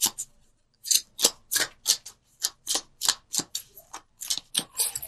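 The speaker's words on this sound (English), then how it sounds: "I'm going to pull this second card with this." A tarot card being pulled from a deck, heard as a quick series of crisp, dry card flicks and shuffling snaps, close and distinct, with short pauses between them.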